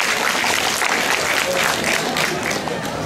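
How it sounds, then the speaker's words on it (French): A crowd applauds contestant Pierre at the Wazabi 2012 event, a loud, dense and continuous burst of clapping filling the whole moment. "je vous demande d'applaudir très très fort Pierre"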